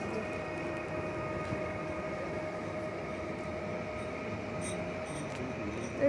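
A regional train of Koleje Wielkopolskie pulls away from Poznań Starołęka station, a steady broadband rumble of wheels and running gear holding level throughout with faint high squeaks near the end, moderately close.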